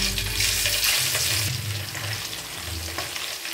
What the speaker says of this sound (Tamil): இந்த குடமிளகாயும் லைட்டாக நம்ம அந்த எண்ணெயில் போட்டு எடுக்கணும்